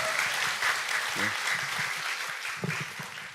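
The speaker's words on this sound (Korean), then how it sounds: "박수 한번 좀 부탁드리겠습니다" Studio audience applause on a Korean talk show, a dense sustained clapping with a brief voice exclaiming beneath it, fading slightly toward the end.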